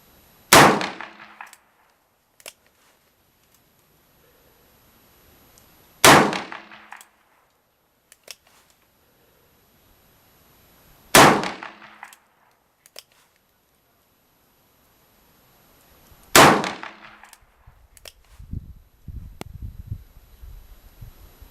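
A Ruger GP100 revolver fires Federal .357 Magnum rounds in single action at a steel target outdoors: four loud, sharp shots spaced about five seconds apart, each with a ringing metallic clang and short decay.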